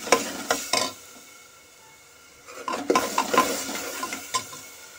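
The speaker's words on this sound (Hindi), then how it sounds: "मैं ये दही वाला मसाला डाल दूंगी और इसे अच्छे से मिक्स कर लूंगी" Yogurt masala stirred into a pan for coriander rice, giving a few scraping, clinking stirs near the start, a quiet pause, then steadier stirring with utensil taps against the pot and a faint sizzle, close by with no talk.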